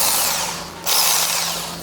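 A jigsaw buzzes steadily up close during a test cut in a Chevy Astro van body, dipping briefly before surging back louder as it continues cutting.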